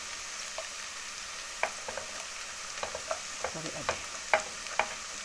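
Garlic sizzles in a pan with sautéed onion for shrimp soup, a soft continuous fry punctuated by scraping stirs and light utensil taps, with a few words spoken over it.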